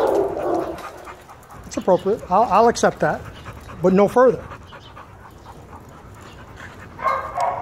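A dog named Piggy, undergoing a behavioral evaluation, gives several short whining, whimpering cries in two quick clusters, close by, with someone talking before and after.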